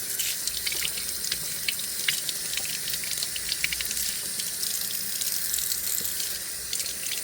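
Tap water runs steadily into a kitchen sink while small garden cucumbers are washed, a continuous close hiss and splash with no talking.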